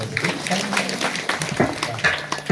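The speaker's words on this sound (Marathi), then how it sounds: "एकदा या पिल्लांकरता टाळी वाजवा." A crowd at a Marathi kirtan gathering claps for the children, a dense, steady patter of hands with voices mixed in throughout.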